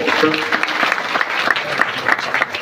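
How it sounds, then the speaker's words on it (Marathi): Loud, dense applause from a crowd at a live kirtan, a continuous burst of clapping close by. "कीर्तनकार दिसला जोरदार टाळी वाजत"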